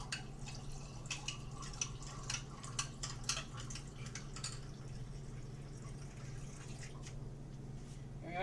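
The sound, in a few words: water being poured into a drink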